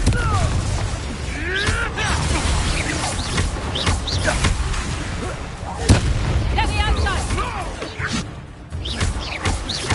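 Confringo fire spells in Hogwarts Legacy go off as repeated booming blasts and crackling bursts amid battle noise, loud and dense, with a voice calling out over the fighting.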